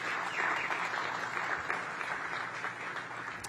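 Steady crowd applause fills a groundbreaking ceremony for a community space in Congress Heights, Ward 8, a dense continuous patter of many hands clapping with no individual voices standing out.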